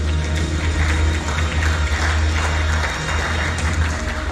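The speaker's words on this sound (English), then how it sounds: "We can clap." An audience at an IT summit awards ceremony applauds a winner with steady, dense clapping over a strong low hum in the hall.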